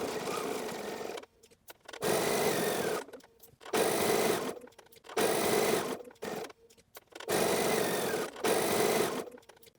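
Sewing machine stitching a quilted fabric tote bag, running in five steady bursts of a few seconds each with short pauses between, close and fairly loud, no voices.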